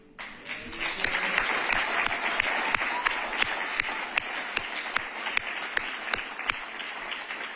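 Audience applauding at a Metro Transit Authority meeting as a staff member stands to be recognised, steady full-room clapping with distinct sharp individual claps throughout, no talk over it.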